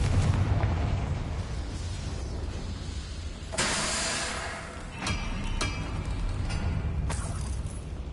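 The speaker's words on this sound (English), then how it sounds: "Confringo." Confringo fire spell explosions in the video game Hogwarts Legacy, a dense roaring blast with several sharp bursts over a loud, continuous rumbling game soundscape.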